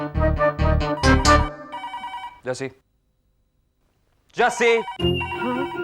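A telephone bell rings in an Indian TV drama office scene, a few rapid bursts of ringing up front followed by a pause, then a voice speaks after the ringing stops.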